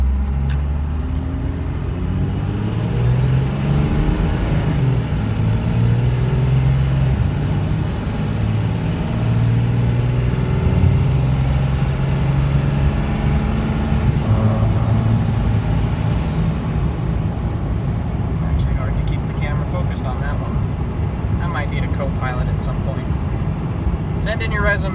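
A Cummins 12-valve diesel truck accelerates at full throttle, its engine droning loudly and steadily from inside the cab and rising in pitch, while a person talks over it.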